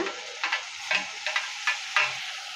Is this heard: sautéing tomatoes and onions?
yes